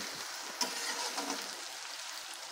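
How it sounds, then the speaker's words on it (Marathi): Chopped onion fries in hot oil seasoned with cumin, mustard seeds, bay leaf and curry leaves, giving a steady, soft sizzle with a brief stir near the start and no voices. "कांदा छान परतून घेऊ आपण."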